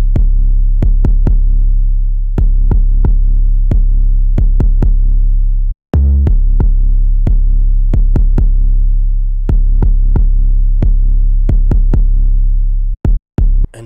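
Loud, deep 808 bass in a trap beat, switched in for the verse, sounding as booming sustained notes with sharp percussive hits on top, one brief dropout near the middle and a stuttering cut near the end.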